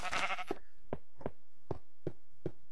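Minecraft sheep bleat in a series of short, evenly spaced calls right after a brief burst of noise at the start, each bleat close and distinct against near silence.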